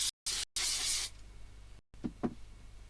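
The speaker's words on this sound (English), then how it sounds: "I'm going to do it with my spray, which is this one, Craft Mount Permanent Adhesive." Craft Mount Permanent Adhesive sprays from an aerosol can in a few quick hissing bursts, the last one longest, followed by quiet with a couple of soft taps.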